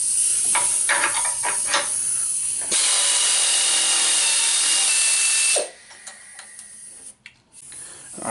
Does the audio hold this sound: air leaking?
yes